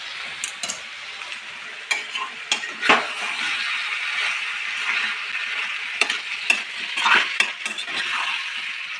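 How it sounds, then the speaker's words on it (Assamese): Local chicken frying in a pan after turmeric powder goes in, a steady close sizzle broken by irregular scrapes and clinks of a spoon stirring, no talking. "হালধি গুড়াখিনি দিয়াৰ পিছত অকণমান টাইম আকৌ ভাজি ল'ম"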